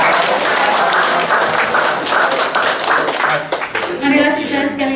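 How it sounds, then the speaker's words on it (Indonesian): An audience claps loudly for speaker Erik Hadi Saputra at a character-building workshop, sustained dense applause that tapers near the end as a voice begins speaking. "Marilah kita sekali lagi berikan tepuk tangan untuk Bapak Erik Hadi Saputra"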